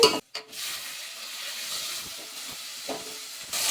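Tomatoes and onions fry in a pan for a Telugu brinjal and dried-fish curry, giving a steady, fairly loud sizzle and hiss that breaks off briefly near the start and then runs on without talk.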